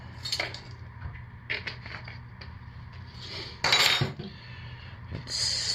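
Cooked hot-process soap being stirred in a pot, with irregular metallic clinks, knocks and scrapes of a utensil against the pot and a louder clattering burst midway. Nobody talks.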